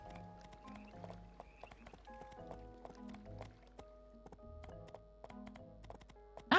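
Quiet hoofbeats from a horse in the video game My Time at Portia, a string of sharp clicks under soft melodic game music with no talk.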